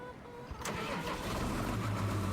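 A tractor engine in a farming video game cranks and fires up, then settles into a steady, rising mid-pitched rumble as it warms, close and continuous with no talking.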